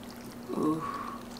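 Liquid poured into a glass or cup at a New York City table, a short soft splashing stream lasting under a second, faint background murmur around it.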